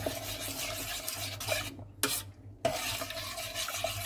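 Majablanca mixture with cornflour and macapuno stirred in a pot over medium heat: soft, continuous scraping and swirling close by, with a brief near-silent gap partway through.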